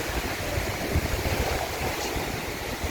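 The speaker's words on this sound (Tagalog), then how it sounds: "grabe po lakas ng hangin dito" Steady, loud wind roaring across an open microphone, with a constant rushing noise and surf-like rumble and no voices.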